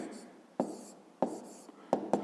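A pen or marker writing out a math equation on a board, with a few sharp taps and short scratchy strokes at irregular intervals, close and fairly quiet.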